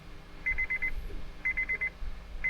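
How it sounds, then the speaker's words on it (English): Quick bursts of electronic beeps repeat at a regular pace, four short tones in each group, a 2003-2007 Honda Accord's door-open warning chiming. "I'm assuming that's the doors open beeping?"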